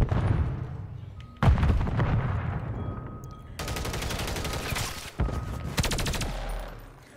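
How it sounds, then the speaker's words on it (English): Video game gunfire rips out in dense, loud automatic bursts, with rapid rattling volleys and heavy booming hits that overlap almost without a break. "Good shots, good shots"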